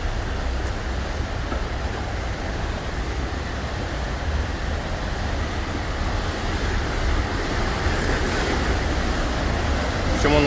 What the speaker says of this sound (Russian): Огромнейший водопад.